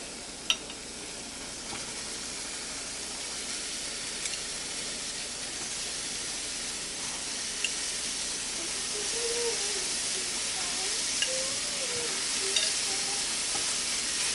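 Lamb sizzles steadily in a hot pan, a constant bright hiss with occasional small pops and faint clinks, with no talking.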